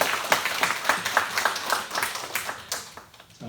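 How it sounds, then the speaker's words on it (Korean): A church congregation claps together during a Sunday worship service, a dense patter of hand claps with a few louder accents, steady for a few seconds and then fading near the end. "오늘도 은혜 주신 하나님 앞에 박수를 한번 영광 드리겠습니다."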